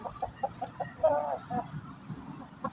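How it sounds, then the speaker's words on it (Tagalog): A Black Shamo Aseel chicken clucks in short, soft, repeated notes close by, with a low background hum underneath. "Yan yung ating manok dito."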